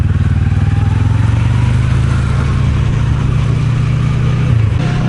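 Steady engine drone of a Kawasaki Zephyr motorcycle being ridden, a loud, continuous low rumble holding an even pitch with a slight rise near the end, no voices.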